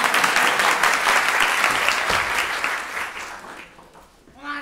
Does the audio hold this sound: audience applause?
yes